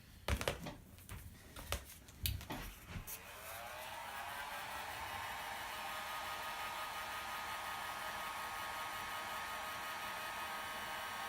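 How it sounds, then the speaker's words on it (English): Heat gun switched on for an Ooze and Jelly build, starting after a few bumps and handling knocks, then settling into a steady, even blowing whir that holds alone to the end. "we're gonna get our handy dandy heat gun"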